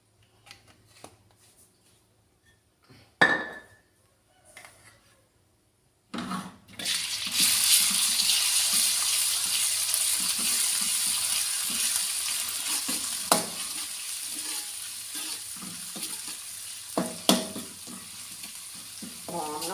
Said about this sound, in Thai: แล้วก็เทน้ำมันลงนะคะ วันนี้ใช้น้ำมันหมูค่ะ